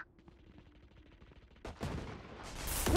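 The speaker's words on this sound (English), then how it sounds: "They're firing from far away" Gunfire in a Valorant-style competitive shooter: faint distant shots patter at first, then louder bursts of fire build and grow denser toward the end, without talk.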